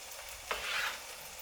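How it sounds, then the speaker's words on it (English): Soft, steady sizzling of onions frying in a pan, faint and continuous, with a brief scrape of stirring partway through. "while the onions are still frying"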